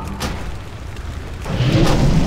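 An artillery shell bursts in a fantasy battle video game, a deep booming blast that swells at the end over a dense, noisy wash of combat sound.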